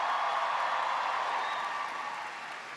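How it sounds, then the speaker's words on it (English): A university crowd at the University of Kansas applauds an introduction with broad, even clapping that holds steady and then gradually thins and fades. "Can everybody give Alyssa a big round of applause for the great introduction?"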